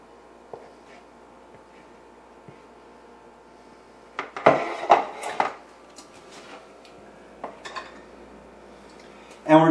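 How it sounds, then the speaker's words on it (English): Egg mixture is scraped into a muffin tin for a Denver omelet, heard as quiet scrapes and sharp metallic clinks, with clusters of louder knocks in the middle and at the end. "for the final one, I'm going to have to scrape it in there"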